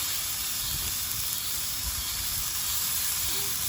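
Hot dogs sizzling in oil in a cast iron pan, a steady, dense hiss that continues evenly throughout without pause.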